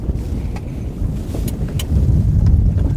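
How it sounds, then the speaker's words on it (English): Strong wind sweeps across a lake during early summer walleye fishing. It makes a steady, low buffeting roar against the microphone that swells louder toward the end, with no talking. "It's just so windy, it's been hard to..."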